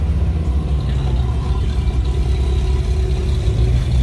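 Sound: Porsche 928 S4 engine at a historic hill climb

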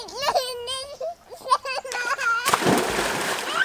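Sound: child splashing in water while swimming

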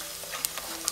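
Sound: garlic frying in oil being stirred

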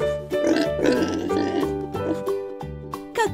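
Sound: pig oinking

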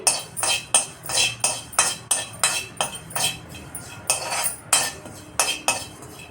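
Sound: dry roasting cumin seeds in a pan

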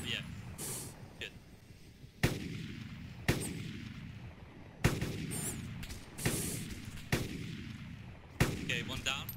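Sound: gunfire in the video game DayZ mod

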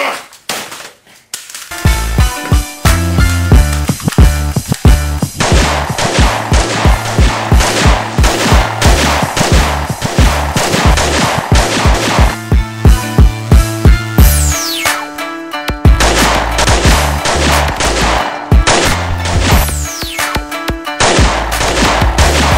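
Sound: sustained gunfire

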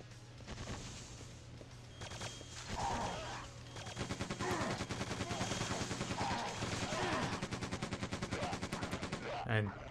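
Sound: machine gun fire in video game Quake 2

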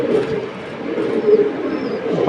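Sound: pigeons cooing

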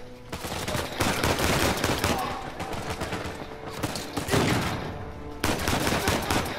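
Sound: shotgun fire in the video game Uncharted 4

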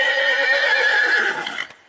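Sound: horse neighing in the video game Fortnite

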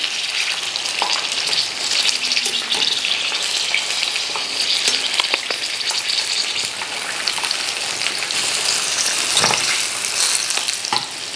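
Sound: deep frying pork tails in oil

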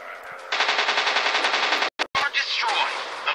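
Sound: machine gun fire from a warplane in the video game War Planes

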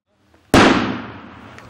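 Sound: flash-bang training charge exploding over an obstacle course

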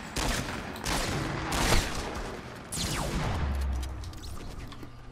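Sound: gunshots from the video game Fortnite

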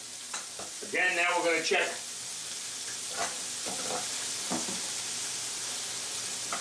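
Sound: rib steak sizzling as it cooks in the pan

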